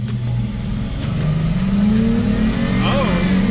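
An AWD Chrysler 300S engine rising in a sustained rev and launching in sport mode, loud and close, with a voice talking over it.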